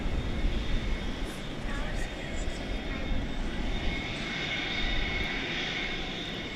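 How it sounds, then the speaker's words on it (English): A Singapore Airlines cargo Boeing 747 taxis at an airport, its jet engines giving a steady, moderately loud roar with a faint high whine running throughout. "the Singapore Airlines cargo 747 is headed over the bridge to the east side for its trip to Brussels"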